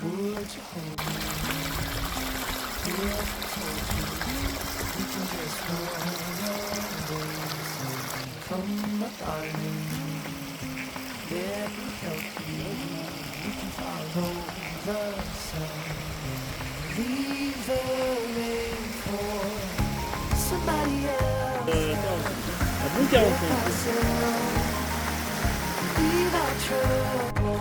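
Water from Laugarvellir, a hot spring waterfall in Iceland, pours and rushes continuously, a steady splashing flow close by, with people talking briefly over it.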